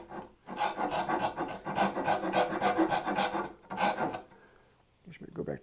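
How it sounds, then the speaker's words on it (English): A hand rasp files wood into a rounded organic shape, with rhythmic back-and-forth rasping strokes in close, steady bursts and a brief pause near the end. "I could come in my rasp again and do that area"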